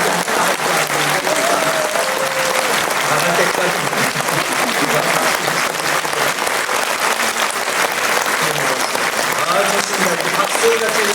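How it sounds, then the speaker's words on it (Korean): A church congregation at a Liberation Day worship service claps in sustained, dense applause that fills the room, steady and loud throughout, with a brief spoken voice over it. "이렇게 박수가 들리니까 내 마음이 기뻐요"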